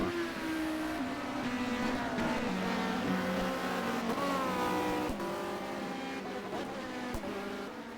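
Peugeot and Honda touring race cars at a WTCC round at Le Mans in 1990, engines screaming loudly and continuously with rising and falling gear changes as they run close together.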